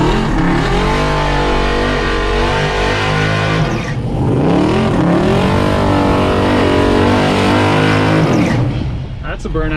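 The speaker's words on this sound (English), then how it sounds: "That's a burnout" A 521 cubic inch naturally aspirated Mustang drag car doing a burnout: a loud, close engine roaring and revving through sustained harmonic howls with pitch swings, dipping briefly before climbing again, then cutting off; voices talk over it.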